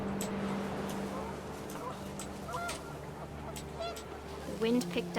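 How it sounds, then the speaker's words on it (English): Panicked geese honking in What Remains of Edith Finch, a scatter of nasal honks and squawks rising over wind and a low drone, louder toward the end, with a voice speaking over part of it. "The wind picked up, and panicked geese appeared and quickly went."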